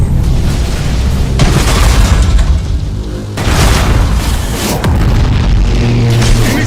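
An Imperial warship breaks apart under main battery fire in a space fleet battle game, with loud rolling explosions and deep booms that surge in waves and keep crackling throughout.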